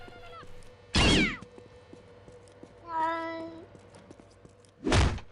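Cat meow in the game Postal 2, one short harmonic cry at mid-clip between two loud broadband thumps, with quiet game background around it.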